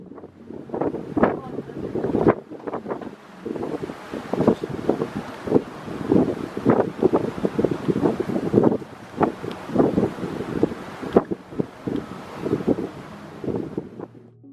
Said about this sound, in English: So now we're sailing out of the port again overnight to the next stop.